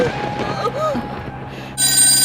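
A telephone starts ringing loudly near the end, a steady electronic tone that follows muffled voices in a quiet domestic room.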